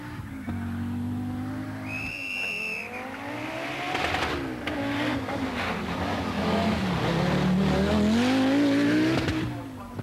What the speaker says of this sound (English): This is Michel Mouton, 500 horsepower in the Audi Sport. It must take some handling.